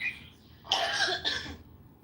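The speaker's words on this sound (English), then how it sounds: "your cough is back" A person coughs twice in quick succession, close and fairly loud, after a short breath.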